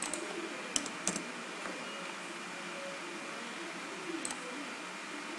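Typing on a computer keyboard while working in Tekla Structures software: soft, scattered key clicks and a few sharper taps over a steady background hiss.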